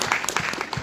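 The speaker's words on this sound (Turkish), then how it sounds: "Hadi bak, alkışlarımızla alıyoruz." A theatre-festival audience applauds to welcome a speaker onto the stage, a dense patter of clapping filling the short moment at steady, moderate loudness.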